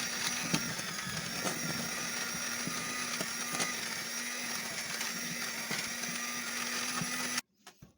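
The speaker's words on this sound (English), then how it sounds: "And then we're gonna use our electric blender." An electric mixer whirs steadily, beating sugar for a lime cake, a constant motor hum with faint clicks that cuts off abruptly near the end; no talking.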